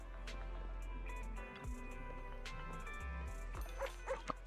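A dog in a game scene barks in short yips and whimpers over a steady musical background, the bursts fairly close and clustered toward the end.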